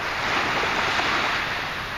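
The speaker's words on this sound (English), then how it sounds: "Finally, it's just some baby waves." Small ocean waves break in a steady broad rush at low tide in a bay, close and fairly loud, with light wind noise and no voices.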